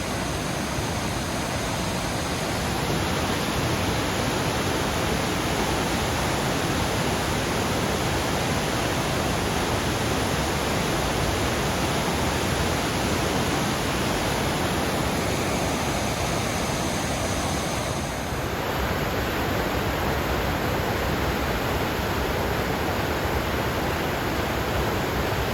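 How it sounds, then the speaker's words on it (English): Mouse Creek Falls gushing in February, a loud, constant broadband roar of falling water filling the whole stretch with no pauses, heard up close. "That may be the best I've ever seen Mouse Creek Falls flowing."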